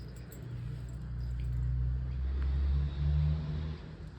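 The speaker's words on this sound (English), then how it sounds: "Trucks arriving." Trucks arriving make a low, steady engine rumble that swells gradually and holds near and loud, with a faint rattle on top.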